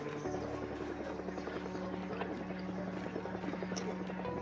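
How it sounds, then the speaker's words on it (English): A helicopter's steady rotor drone in the video game Project Zomboid hums continuously at a moderate distance, with a faint whirring texture and no pauses throughout. "Helicopter. Right there."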